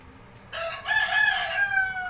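Several roosters crow at a cockfighting venue, one long crow starting after a quiet moment and overlapping with others in a fairly loud, sustained chorus.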